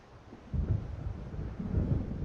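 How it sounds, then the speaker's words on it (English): Low, deep rumbling thunder from an approaching storm in the video game Alan Wake, swelling in two broad rolling waves over a steady wind-like background, with no talking. "It seems there's a storm coming."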